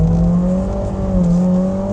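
A Honda S2000 AP2 engine pulls with a steady droning tone that rises and falls slightly, loud and close from inside or beside the car on a cold day, with no voices.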